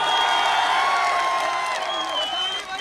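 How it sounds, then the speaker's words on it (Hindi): A large crowd at a political rally in Bihar roars with sustained cheering, whistles and shouts, loud and close, with clapping blended into the din. "जोरदार ताली से करिए भाई"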